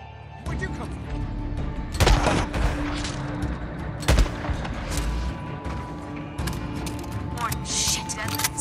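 Sniper gunfire from a rooftop in Days Gone, with repeated loud cracking shots and echoing bursts over a steady background of combat noise, while voices speak during the exchange.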